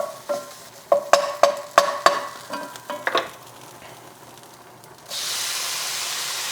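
Tomato paste and garlic cooking in a pan, stirred in a run of scraping strokes over a soft sizzle. A steadier steamy hiss rises near the end.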